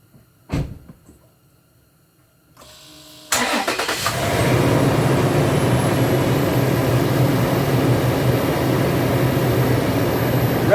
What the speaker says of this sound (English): we're going to run the engine for about 60 seconds